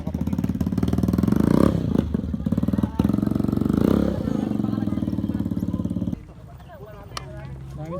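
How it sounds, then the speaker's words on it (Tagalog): Motorcycle engines drone loudly and steadily, revving and passing close by for several seconds before fading to a quieter rumble. "kita mo yung mga motor ng mga kasabayan namin"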